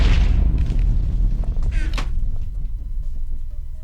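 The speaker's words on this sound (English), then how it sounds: "it's a device that just takes antimatter, it explodes, we collect the energy from the explosion." An antimatter explosion power device in modded Minecraft gives off deep, rumbling booms with brief crackling bursts, loud and continuous with no talking.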